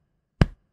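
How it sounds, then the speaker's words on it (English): A single hand pat on the chest as body percussion, one short dull thump with a quick decay, close and clear against near silence. "pat your chest,"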